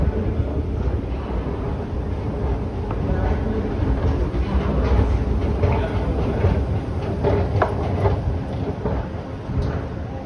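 A TTC subway train rumbles at Kennedy Station, a continuous loud low roar with rattling wheel clatter and wind buffeting the microphone, steady throughout.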